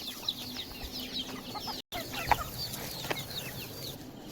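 Hens and small chicks cluck and peep steadily on a farm, with many soft overlapping calls, nearby and moderately quiet, and a brief dropout partway through.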